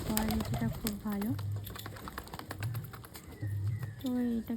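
Pigeons coo in soft, repeated low phrases close by, several bursts in turn, while a person talks over them and there is light tapping in the background.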